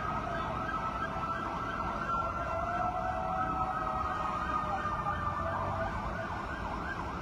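A fire truck siren wails steadily at a fire in Barangay South Triangle, Quezon City, its sweeping tone fairly distant and continuous over constant street and crowd rumble, with no talk.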